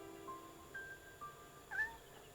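Short, thin meows from a kitten in the video game Shenmue, several brief calls spaced apart with one slightly louder near the end, fairly faint over a quiet background hum.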